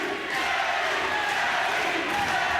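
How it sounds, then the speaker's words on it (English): Boxing crowd cheering and roaring at a fight between Danny Hunt and Jon Honney, a steady loud wash of many voices with rising shouts. "The crowd are enjoying it"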